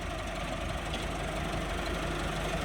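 A tractor engine running with a potato digger attached, a loud, continuous low rumbling drone with a rough, even throb and no break.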